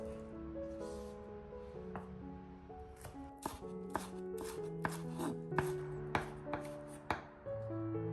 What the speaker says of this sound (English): Finely chopped green onions.